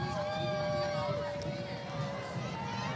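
A parade crowd at a Christmas parade cheers and chatters, a steady close wash of voices and whoops with a sustained whistle-like tone over it.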